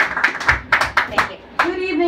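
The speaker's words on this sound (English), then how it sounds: "Round of applause for Kathleen." A small crowd at a Central Brooklyn candidates forum claps briefly, a few distinct rhythmic claps close by, followed by a voice speaking at the end.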